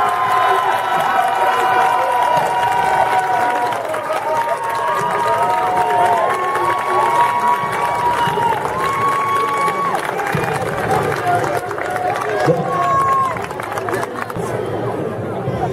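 Outdoor crowd at a flag-throwers' award ceremony in an Italian village festival, cheering and applauding in a noisy sustained swell, with an announcer's amplified voice speaking over it.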